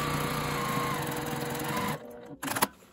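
A sewing machine runs a fast, even whirr for about two seconds while stitching a folded piece of fabric with a 1 cm seam allowance for a zippered accordion coin purse. It stops abruptly, followed by a couple of light handling knocks.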